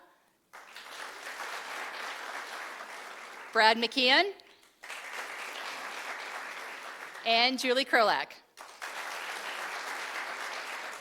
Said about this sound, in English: Keep the applause coming for Chief of Police Brad Mock